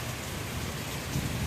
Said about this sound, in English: Wow, it's almost stopped raining.